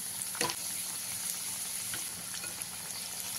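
Taro (arbi) pieces fry in oil over a medium flame, giving a steady close sizzle with a few sharper crackles and pops scattered through, no voices.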